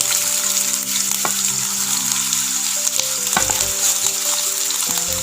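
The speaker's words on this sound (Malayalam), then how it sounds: "എണ്ണ ചൂടായാൽ നമുക്കിതിലേക്ക് നമ്മൾ എടുത്ത് വെച്ചിരിക്കുന്ന സവോള ഇട്ട് കൊടുക്കാം." Chopped onions tipped into hot oil while making Kannur-style madakku pathiri, giving a steady close sizzle and crackle with a few stirring clatters, alone and continuous throughout.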